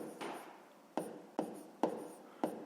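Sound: writing numbers on paper

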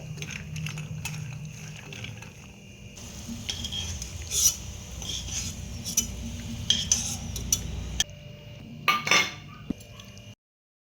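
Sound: dry fruits frying in ghee in a kadai

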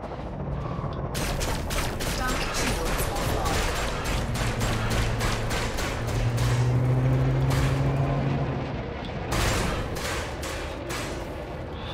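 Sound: spaceship weapons firing in Elite Dangerous video game

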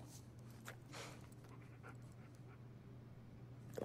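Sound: dog panting in video game Uncharted 4

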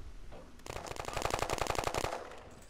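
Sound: gunfire from the video game War Trigger 2

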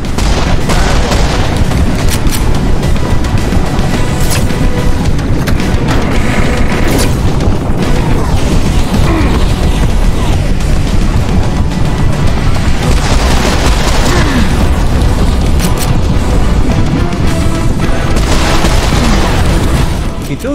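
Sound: fast missiles exploding in the video game Serious Sam: Siberian Mayhem

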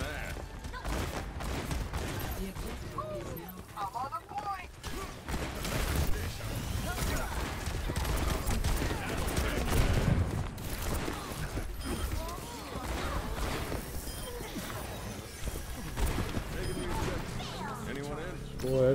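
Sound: Cassidy gunfire in video game Overwatch 2

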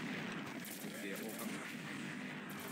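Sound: gunshots in a video game

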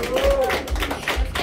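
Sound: applause

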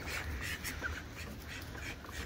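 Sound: duck quacking

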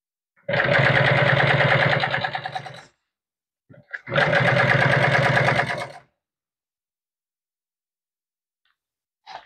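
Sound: sewing machine stitching boat cushion upholstery

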